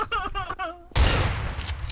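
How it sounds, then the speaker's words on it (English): Gunfire in the video game Trouble in Terrorist Town, a sudden loud burst of rapid shots that follows a moment of talk and keeps rattling to the end. "I hear gunfire, what is happening?"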